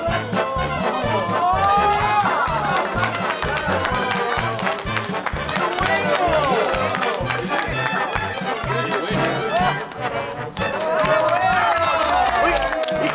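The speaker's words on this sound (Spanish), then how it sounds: "¡Aplausos!" A studio audience on a Peruvian TV comedy set claps and cheers in a dense, continuous burst of applause, loud and sustained, with music and crowd noise mixed in.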